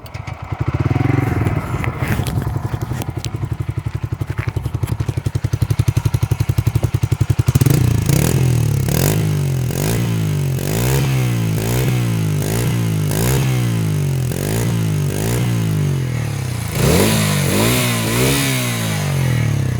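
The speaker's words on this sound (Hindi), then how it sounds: "बाकी आपको मैं साउंड सुनाऊंगा सीएनजी मोड में।" A Bajaj Freedom 125 motorcycle running in CNG mode idles close by, then gets blipped through a series of sharp, rhythmic revs with clattering mechanical noise, the engine heard on its own.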